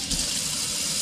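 A kitchen tap runs water steadily at close range while pistachio seeds are rinsed for germination, a continuous loud hiss and gush with no pauses.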